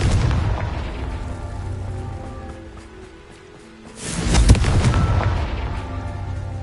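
Booming Confringo blasting spell explosion in the Hogwarts Legacy video game, a deep blast swelling up around the middle after a quieter rumbling stretch, loud and close with a heavy low-end tail.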